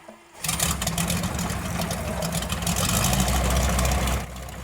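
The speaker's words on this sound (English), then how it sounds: "Checks done, the engine is started." A replica Sopwith Strutter aircraft's piston engine starts after a brief pause, then settles into a loud, steady running roar close by with a deep low rumble.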